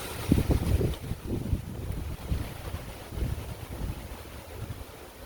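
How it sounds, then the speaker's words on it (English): Gusty wind during a rainy tropical storm in Florida buffets the microphone in uneven rumbling bursts, strongest at the start and easing slightly later, with no speech. "Big gusty winds. Okay, we got some blow going now."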